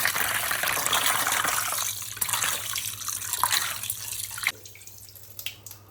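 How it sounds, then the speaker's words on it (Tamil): Rice being rinsed by hand in water in a home kitchen, with steady sloshing and running-water wash for several seconds before quieter drips and small splashes toward the end. "அதுக்குள்ளே அரிசியை களைஞ்சி வச்சுட்டு வந்துடலாம்"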